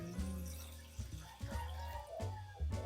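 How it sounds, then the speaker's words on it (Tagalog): Water splashing and gurgling into a cooking pot (kaserola) while preparing boiled mung beans, an uneven pour with several bursts of sloshing and burbling, close and fairly quiet. "So, magdudog tayo ng tubig."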